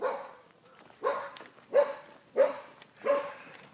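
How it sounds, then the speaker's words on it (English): A dog barks repeatedly at a house for rent in San Antonio, about five evenly spaced barks, moderately loud and slightly distant, with no talking over it. "Every house I go to, there's always a dog barking"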